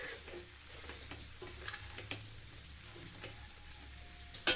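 Spiced beef roast is stirred in a pan, Kerala nadan style, with soft, quiet scraping strokes over a faint, steady sizzle and a sharper clink at the end.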